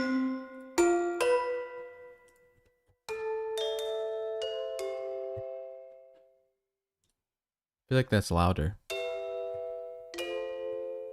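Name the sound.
gamelan bass sample playing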